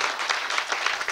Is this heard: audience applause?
yes